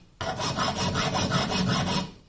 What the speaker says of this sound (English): I'm essentially going to file 4 faces onto it